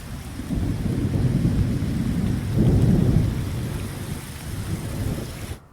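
Heavy rain pours steadily during a thunderstorm in Ranchi, with a deep thunder rumble swelling partway through beneath the constant hiss of rainfall, loud and close.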